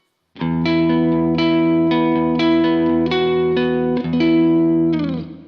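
PRS McCarty electric guitar on its single-coil pickup with a brighter, thinner distorted tone, playing a sequence of strummed chords that ring and sustain, loud and close.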